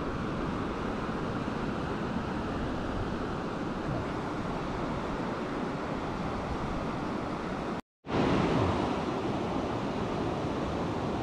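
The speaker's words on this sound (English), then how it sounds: "It's just the waves, I think, going." Sea waves wash steadily onto the beach at Ogmore-by-Sea, a constant broadband roar of surf with wind, broken by one brief dropout near the end before the rush resumes.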